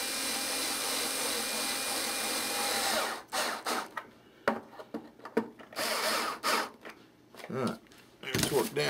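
A power tool runs at low speed, steady and fairly loud at first, then gives way to short bursts of whirring and clicking as nuts are run down during a model aircraft build, with someone talking in between.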